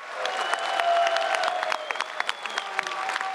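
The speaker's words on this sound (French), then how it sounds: "Les 3 champions, on peut les applaudir." Fans at a UFC Paris Q&A applaud the three champions on stage, a steady patter of clapping with scattered sharper claps over a few seconds, tapering into lighter scattered claps near the end.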